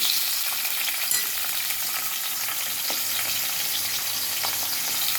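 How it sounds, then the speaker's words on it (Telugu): Dried fish frying in hot oil in a kadai over a low flame, giving a steady, dense, close sizzle that holds even and unbroken for the whole stretch, with no voices over it. "శుభ్రంగా ముందు కడిగి పెట్టుకుని నూనెలో వేసేద్దాం"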